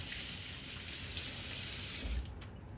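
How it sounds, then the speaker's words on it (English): Steady rush of tap water running into a sink while hands are washed in a home kitchen, close and continuous, cutting off near the end. "gonna give the hand a wash"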